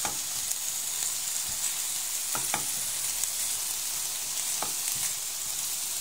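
Blanched bamboo shoots stir-fry in a pan, giving a steady bright sizzle with a few sharp scrapes of a spatula, heard up close and alone.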